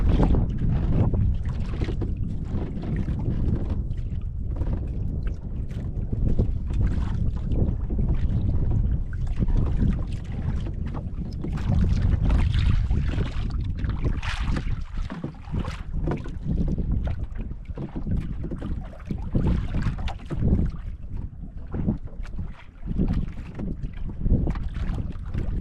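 Strong wind buffets the microphone on a small fishing boat at sea with rising waves, gusting in loud, uneven rumbling bursts that never let up, along with sloshing water and no voices.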